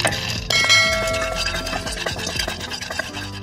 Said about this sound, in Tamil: இப்போ வேர்க்கடலையை லைட்டாக பரட்டிக்கலாம்